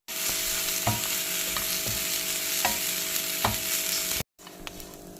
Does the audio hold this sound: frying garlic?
yes